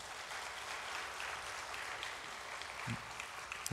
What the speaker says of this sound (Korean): 믿음으로 잘 살라고 박수 부탁드립니다